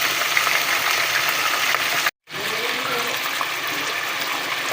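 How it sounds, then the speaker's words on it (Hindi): Beef pieces frying hard in a pan for qorma, a loud continuous broad sizzle with a brief break partway through, no talking over it. "अब इसको तलना है, इस गोश्त को तलना है"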